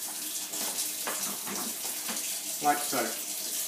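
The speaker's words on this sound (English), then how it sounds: "just run the hot water tap. Feel the water come through hot." A hot water tap runs steadily into a sink or basin in a continuous broadband wash of water, with a brief spoken remark partway through.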